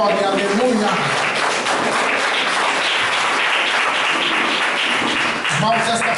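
A church congregation applauds in praise after being told to sit down, a dense steady wash of clapping that fills the room for about six seconds, with voices heard over it at the start and end.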